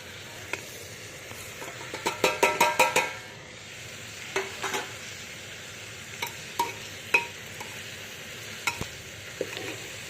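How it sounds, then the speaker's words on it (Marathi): Peas stirred and sautéed in oil in a pan for masala rice, with a low steady sizzle under sharp spoon-on-pan scrapes and clinks, a quick burst of stirring early on, then scattered single knocks. "वाटाणा टाकू तो पण परतून घेऊ चांगला"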